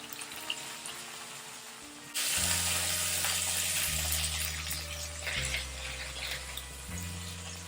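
Tofu and vegetables sizzle in a hot pan during a stir-fry, a loud, close crackling hiss that bursts in after a quiet start and carries on steadily, with a few brief low knocks of the pan.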